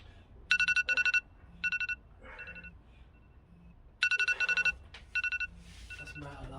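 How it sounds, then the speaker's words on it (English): A phone alarm rings in repeated bursts of bright, rapid electronic beeps, loud and close, with short pauses between groups while people talk quietly in the background. "That's my alarm."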